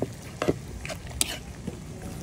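A spoon scrapes and clinks in a pan as malunggay leaves and lima bean seeds are stirred together, giving scattered metallic taps and soft rustling over a faint background hiss.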